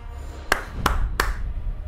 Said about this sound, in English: Let me see that clap.